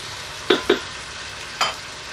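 A Ninja Foodi pot heats on sauté mode in an RV kitchen before a chuck roast goes in, giving a faint steady sizzle. Three brief utensil clicks sound close by, with no talking.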